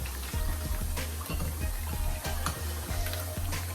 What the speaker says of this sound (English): I'm going to fry them for about 2 minutes in your oil.